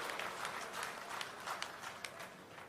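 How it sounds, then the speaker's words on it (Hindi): Audience applause at a political rally in Merta, Nagaur, welcoming the defence minister: a crowd's fairly distant, sustained patter of clapping that rises and falls with a few sharper claps standing out. "एक बार आप जोरदार तालियों से माननीय हमारे रक्षा मंत्री जी का स्वागत और अभिनंदन करिए।"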